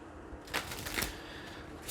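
Tarot cards being shuffled and drawn in a quiet room, with a few soft papery riffles and slides spread over a couple of seconds.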